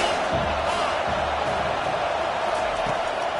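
A stadium crowd roars steadily at a South Carolina versus Arkansas college football game on a big third down, a dense far-off wash of cheering with a few thumps underneath.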